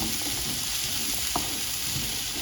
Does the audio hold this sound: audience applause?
no